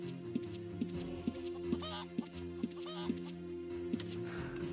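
A chicken in Ultima Online clucks and squawks in a regular repeating pattern, sharp calls about every half second over a steady low game drone, close and fairly loud, with no talking.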